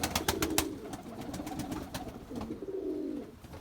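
Pigeons coo in steady, low, rolling phrases under a shelter during rain, with sharp clicks and flutters near the start and a second long coo toward the end.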